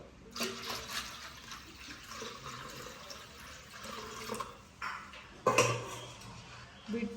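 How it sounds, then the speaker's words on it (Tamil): Thin milk being poured into a cooking pot while making urad dal kali, a soft continuous watery pour with a few metallic clinks of the pot near the end. "அதுக்கப்புறம் தண்ணி பாலையும் விடுவோம்"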